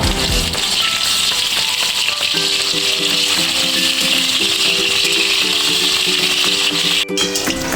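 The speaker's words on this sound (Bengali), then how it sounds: "মাছটা হলুদ মাখানো হয়ে গেছে, এবার আমি তেলে দিয়ে দিচ্ছি। মাছটা আমি ভেজে নেব।" Turmeric-coated fish frying in oil in a pan hisses in a loud, steady, close sizzle, with a faint tonal hum running underneath and no talk.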